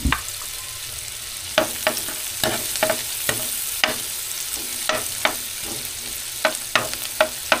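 Garlic and onion sizzle steadily in a hot pan with fried chicken, broken by repeated sharp clacks of a spatula stirring and scraping at an uneven rhythm, close and clear with no voices.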